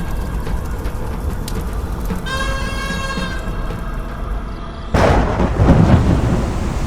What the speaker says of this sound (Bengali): হঠাৎ করে মুষলধারে বৃষ্টি হতে শুরু করে।